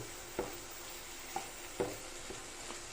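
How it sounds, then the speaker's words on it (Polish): Mushrooms fry in oil in a pan for scrambled eggs, giving a soft steady sizzle with a few sharp clacks of stirring at irregular intervals. "Grzybki się już smażą oczywiście."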